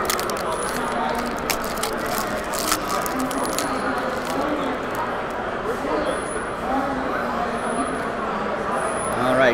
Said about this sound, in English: All right, so let's just rip this pack.